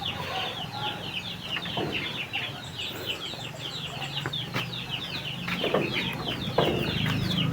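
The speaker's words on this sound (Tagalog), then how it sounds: "mga manok yan ang pitbahay namin" Chickens cluck and chatter steadily nearby, with a few short calls and rustling, a busy outdoor flock sound at moderate loudness.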